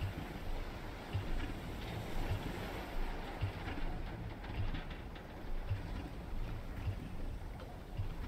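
A homemade boat motor runs with a steady low chugging rumble, faint and even, its regular thumping pulses repeating over a watery background hiss.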